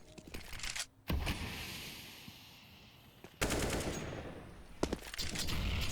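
Automatic rifle fire in a Counter-Strike: Global Offensive esports match on the Inferno map, with a long sustained burst, a quieter gap, then renewed heavy gunfire with sharp shots near the end.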